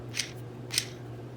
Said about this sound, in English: And we'll zip it down.